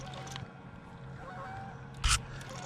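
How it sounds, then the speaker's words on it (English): Geese honk at a lake during fall catfish fishing, with one sharp, loud honk late in the clip over steady outdoor background hum and no talking. "There's some geese coming to see what's going on."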